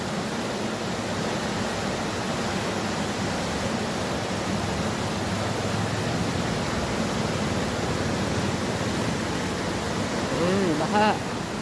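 Rushing floodwater after a typhoon, a constant broad roar of fast-moving water heard close and loud throughout, with a brief voice near the end.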